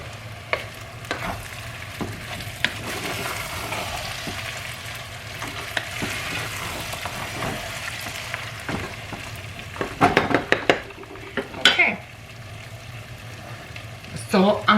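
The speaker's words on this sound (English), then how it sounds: "So that's what you fry the pork with" Pork fries in plenty of extra virgin olive oil, giving a steady close sizzle with occasional scraping stirs and louder crackling bursts toward the end, while a person talks over the cooking.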